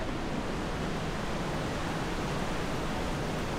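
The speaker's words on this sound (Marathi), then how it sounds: "मंदाकिनी नदी इकडं वाहताना दिसते मित्रांनो. अतिशय खळखळ असा आवाज" The Mandakini river rushes and gurgles near Gaurikund on the Kedarnath trek, a steady, even broadband roar of flowing water with no voices.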